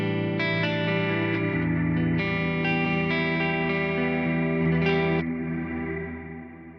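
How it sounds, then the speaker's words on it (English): An Eventide Blackhole reverb pedal set to reverse with the Q control turned high, producing sustained, shimmering guitar chords that swell and smear into a dense, ethereal wash, then fade out at the end, with no talk. "that is giving you this wonderful ethereal reverse reverb"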